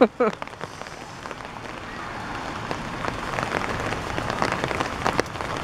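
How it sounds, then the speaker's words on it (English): Heavy rain mixed with pea-size hail pours down steadily outdoors, a dense hiss with scattered sharp ticks that build in intensity; a brief voice is heard at the very start. "Pea size hail. Whew, that's cold hail."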